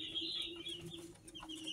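Soft clucking from broiler and free-range village chickens on a farm, faint and a little distant, over a constant hum and some high chirping.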